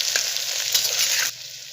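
Brinjal pieces with turmeric powder sauté in a hot pan, giving a close, steady crackling sizzle that drops a little in loudness near the end, with no voices.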